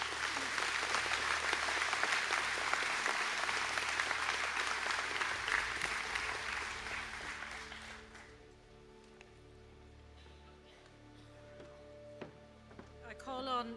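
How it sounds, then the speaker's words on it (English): Graduates and guests at a conferring ceremony give a long round of applause, steady and roomy, which fades out to quieter hall ambience with faint voices near the end. "please stand for a round of applause"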